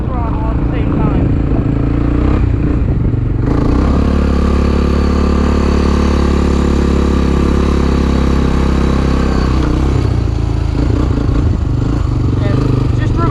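A stock 1987 Honda TRX250X 250 quad's engine runs loud and close, rising into a steady sustained rev through the middle before easing off, with some clattering and a voice talking over it.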